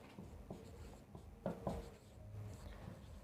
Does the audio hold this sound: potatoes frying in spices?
no